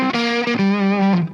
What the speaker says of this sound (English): since it is power amp distortion